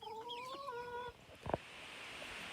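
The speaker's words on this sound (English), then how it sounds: "So I've got Cowtail, my chocolate Orpington hen, sitting on some eggs." A chocolate Orpington hen sitting on eggs gives soft, drawn-out clucking sounds, followed by a brief rustle, close and quiet with a faint background hiss.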